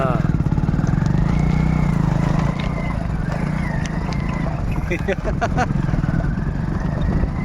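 A motorbike rides over a rough concrete track on a rural road from Dhampur to Pangidimaadhara, its engine running steadily and close with bumps and rattles throughout, while voices talk over it.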